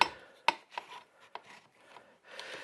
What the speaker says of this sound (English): And now I'm just going to clamp that down.